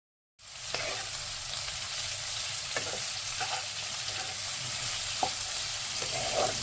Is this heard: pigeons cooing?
no